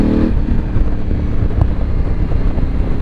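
Steady low engine rumble from a 2017 Suzuki V-Strom 1000 XT motorcycle with an Akrapovic exhaust at low revs, loud and continuous, with wind buffeting the microphone throughout.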